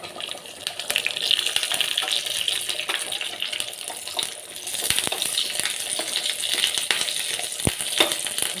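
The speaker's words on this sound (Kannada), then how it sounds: "ಇದು ಬಿಸಿ ಆದ ನಂತರ ನಾವು ಸಾಸಿವೆ ಹಾಕುವ ಅದು ಸಾಸಿವೆ ಚಟಪಟ ಅಂತ ಉಂಟು" Mustard seeds crackle and pop in hot oil in a pan during Karnataka-style cooking, a dense scatter of sharp little snaps over a steady sizzle, close and continuous, with a few louder pops standing out.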